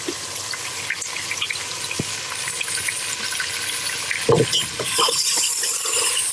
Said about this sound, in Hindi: और हल्का सा पानी डाल के इसकी भुनाई करेंगे